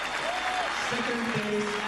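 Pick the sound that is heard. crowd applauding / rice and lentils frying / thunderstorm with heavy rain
crowd applauding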